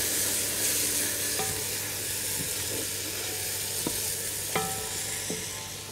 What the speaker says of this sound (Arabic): ونقلبهم مع بعض.